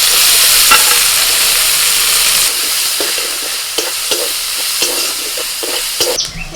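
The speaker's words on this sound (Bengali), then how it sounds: "তেলের মধ্যে ফোড়নে দিচ্ছি গোটা জিরে ফোড়নটা হয়ে গেলে দিয়ে দিচ্ছি পেঁয়াজ কুচি লঙ্কা কুচি আর একটু রসুন কুচি" Whole cumin crackling in hot oil with chopped onion, green chilli and garlic for a masala mushroom dish: a loud, steady sizzle with scattered scrapes and clacks of stirring, no voices.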